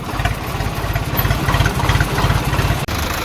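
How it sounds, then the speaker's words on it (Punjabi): A heavy tractor engine chugs close by at an idle, a steady low rhythmic thumping that continues throughout with no talking. "ਤਿੰਨ ਟਰਾਲੀਆਂ ਪਾਈਆਂ ਹੋਈਆਂ ਪਿੱਛੇ ਇੱਕ ਮਸ਼ੀਨ ਇੱਕ ਟਰੈਕਟਰ ਰੇਲ ਗੱਡੀ ਬਣਾਈ ਹੋਈ ਆ"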